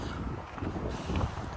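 Wind buffeting a microphone outdoors, a steady low rumbling rush with gusty swells, close and continuous, no voices.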